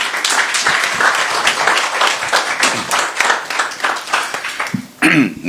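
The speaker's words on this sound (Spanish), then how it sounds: "un aplauso al querido maestro" An audience at a legal lecture applauds a speaker with dense, sustained clapping for about five seconds before it breaks off and a voice begins.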